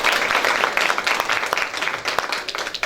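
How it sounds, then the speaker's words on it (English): Audience applause at a Literacy Day celebration in Makhado, Vhembe, with dense clapping that stays steady and fairly loud for about three seconds and carries no speech over it. "I think we owe you a very big round of applause."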